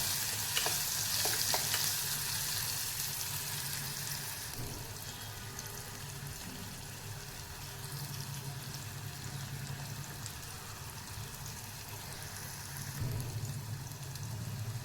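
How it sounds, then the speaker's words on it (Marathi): Chopped onion fries in hot oil with mustard seeds and asafoetida for a dill leaf (shepu) bhaji. A constant close sizzle runs throughout, with occasional stirring scrapes against the pan. "हिंग घातलेलं आहे कांदा घातलेला आहे कांदा थोडासा परतल्यानंतर त्यात खेचलेला लसूण घालणार आहे"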